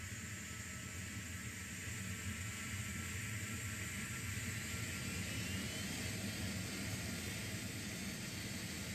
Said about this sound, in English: You can all hear the engines roaring right now.